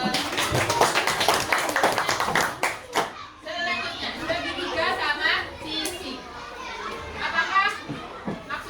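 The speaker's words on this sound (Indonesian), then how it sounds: "jadi kita beri aplaus" A classroom of fourth-grade primary school children applauds a student's answer with a burst of loud, rapid clapping, then settles into excited chatter and kids' voices.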